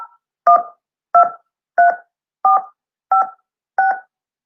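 Telephone keypad dialing tones: six crisp, evenly spaced beeps, each a short dual-pitched tone, loud and alone with silence between presses.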